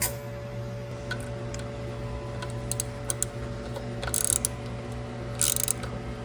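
Ratchet wrench tightening the bolts of a cleaned carburetor on a weed-eater engine bike, heard as a faint, irregular mechanical ticking and clicking that comes in short bursts over a steady background hum, with no talking.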